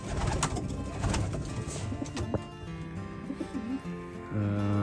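Racing pigeons, including new young birds, coo in a loft, with soft repeated coos rising over a steady background rustle and a louder, sustained coo at the end.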